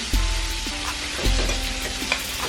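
Food fries in butter and oil with a loud, close sizzle, broken by a couple of clunks and scrapes from stirring in the pan.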